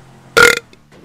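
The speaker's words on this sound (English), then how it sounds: "I just burped that car over." A single loud, close burp lasting about a quarter second, sharp-edged and alone, with quiet game background before and after it.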